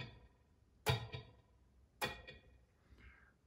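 A bare electric guitar through an eighth-note-triplet delay with short feedback, mixed low: two soft plucked notes, each trailed by a couple of quieter echo repeats, faint and close, with no voices.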